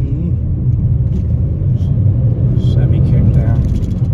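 A remapped BMW E92 330d diesel with a gutted DPF accelerates along a straight, its engine giving a loud, steady low rumble from inside the cabin, with a voice murmuring over it.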